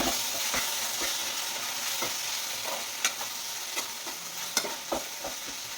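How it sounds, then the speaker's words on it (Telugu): A masala vada tomato curry is stirred in a pan on the stove, with quiet sizzling beneath a few soft scrapes and clinks of the spoon against the pan. "ఇది ఒకసారి మళ్ళీ కలిపేద్దాం."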